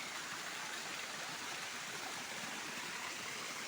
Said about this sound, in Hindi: ऊपर पानी की धार थी और ये बह रहा है दगड़ियों पानी